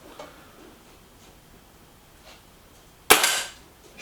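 Kral Puncher Breaker bullpup air rifle fires a single sharp, loud shot about three seconds in, with a short fading tail, after near-silence.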